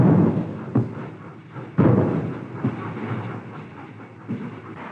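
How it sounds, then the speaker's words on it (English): A 1942 newspaper train pulls out of a station, heavy rumbling with irregular clanks and thuds of couplings and wagons, loud and close on an old film soundtrack. "the newspaper train starts just on time"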